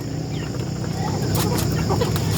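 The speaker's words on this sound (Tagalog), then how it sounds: "Kapatid din mga yan na manok." Chickens on a small farm clucking steadily at close range, with soft scattered calls over a constant low background hum and no speech.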